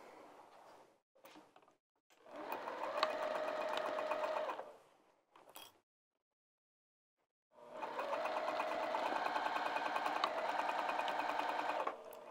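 Sewing machine stitching a bag seam: two long, steady runs of close, humming motor and rapid needle clatter, separated by a pause of near silence, with brief handling sounds before the first run.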